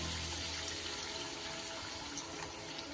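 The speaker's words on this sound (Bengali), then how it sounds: "কষতে কষতে একটু গরম জল দিয়ে দিলাম, দিয়ে আর একটু সিদ্ধ করে নেব।" Hot water splashes and pours steadily into a pot of Kashmiri chicken kanti as it cooks, a continuous close hiss of liquid lasting the whole moment without speech.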